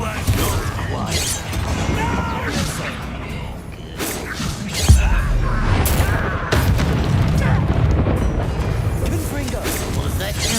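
Confringo fire spell blasts in Hogwarts Legacy, booming explosive impacts with crackling debris amid ongoing combat effects, a prominent hit near the middle, with a voice talking over the action.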